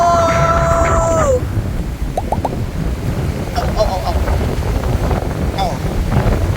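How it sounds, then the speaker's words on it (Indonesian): Strong wind at sea buffets the microphone in a constant roaring rumble, with a whistling tone at the start and faint voices and brief squeaks scattered underneath. "Ya, anginnya gede banget."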